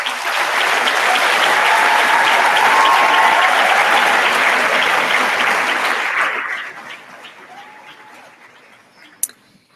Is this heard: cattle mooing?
no